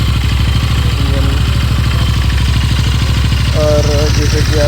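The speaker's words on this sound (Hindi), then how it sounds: "अभी अपन अपनी गाड़ी को फुल स्टार्ट पर रखेंगे" A motorcycle engine idles with a fast, steady low thump, close and loud, holding an even rhythm for a few seconds with a slight rise in clatter near the end.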